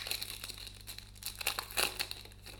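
A Yu-Gi-Oh booster pack wrapper is crinkled and torn open up close, a series of quiet, irregular crackling rips and foil rustles with short pauses.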